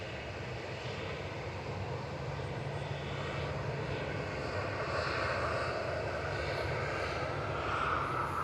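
A new jet airliner, HL-registered and on its first revenue flight, taxis out at Manchester Airport, giving a steady, moderately distant engine drone and whine throughout.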